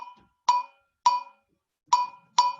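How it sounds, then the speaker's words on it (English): A bell in a West African Orff music lesson is struck four times in an uneven rhythm, each a bright, ringing metallic clang that fades quickly, heard clearly and alone. "So the bell goes,"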